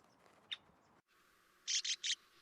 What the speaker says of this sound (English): I get too close to the nest of this male red-winged blackbird,